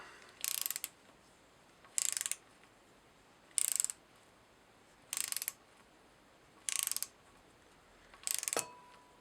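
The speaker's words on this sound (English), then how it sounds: "So right now I've got the torque wrench set at 7 foot-pounds. And we'll just go through in the proper torque sequence." A torque wrench set to 7 foot-pounds tightens the cam caps on a DSM 4G63 engine, giving six short, crisp ratcheting bursts at regular intervals, close and alone in a quiet room.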